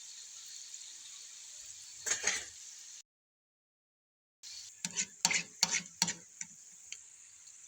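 Besan fritters fry in oil over a lowered flame, a quiet steady sizzle broken by a short gap, then bursts of crackling and bubbling as pieces are dropped in one by one; no voices.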